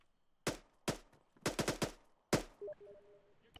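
Sharp, loud gunshots in the Arma 3 military game ring out one by one, then as a quick burst of four, then a final single crack, each separated by near silence.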